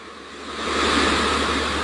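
Beach surf playing back as a steady broadband wash that swells louder partway through and holds, continuous with no talk over it.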